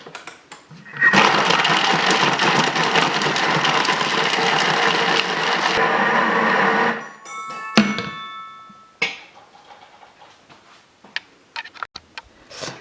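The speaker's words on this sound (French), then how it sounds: "on va venir tourner la spatule pendant que le Thermomix est en train de mixer" A Thermomix blends hazelnut ice cream with a loud, dense whirring roar for about six seconds, then cuts off, leaving a few clicks and light scraping knocks in quiet.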